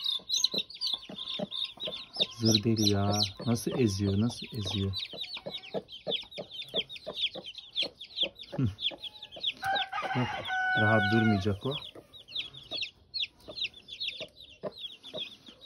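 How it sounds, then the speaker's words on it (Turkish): A hen clucks repeatedly amid high chick peeps, while someone speaks briefly in Turkish in between; the clucking comes in bursts, close and moderately loud. "Bugün tavuğumuz yavrulara bakacak."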